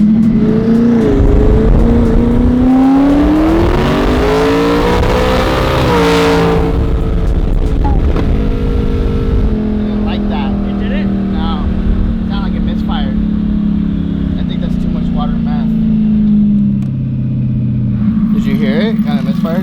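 A big turbo Lamborghini Huracan on methanol accelerates hard with a loud, rising engine roar, a brief blast of turbo noise, then rough, uneven running with misfires, and a voice occasionally talking over it.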